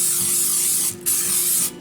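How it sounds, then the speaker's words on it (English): Two hissing bursts of aerosol cooking spray, close up, separated by a brief pause. "I'm gonna spray this bowl with a little bit of cooking spray."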